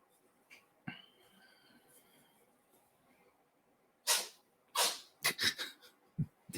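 A pet rooster sneezes several times in quick succession, sharp bursts close by after a quieter stretch of soft breathing and small movements.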